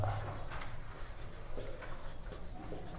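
Hand-writing of a maths formula on paper or a board, a continuous soft scratching and rubbing of the pen with small strokes, close and fairly quiet, with no talk.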